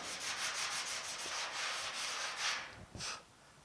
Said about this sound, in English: I'm going to keep sanding on this for a little while